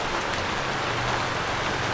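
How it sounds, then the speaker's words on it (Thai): Steady rain falls continuously outdoors, a dense even hiss of drops on surfaces, moderately loud and close with no pauses. "ฝนตกนี่ ฝนตก ฝนกำลังตกพอดีเลยพี่น้อง"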